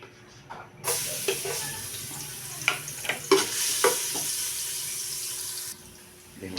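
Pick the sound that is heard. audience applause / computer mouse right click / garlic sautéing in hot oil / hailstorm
garlic sautéing in hot oil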